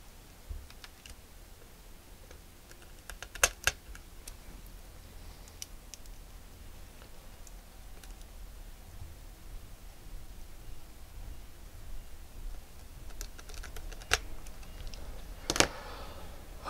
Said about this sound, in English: And then we put the screws back in.